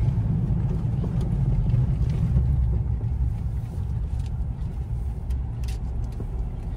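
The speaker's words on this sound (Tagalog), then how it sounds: "Naririnig naman, diba, na medyo yung sasakyan ay nag-change gear siya." A road vehicle's engine rumbles loudly and steadily throughout as it drives and shifts gear, a deep continuous drone with no voices.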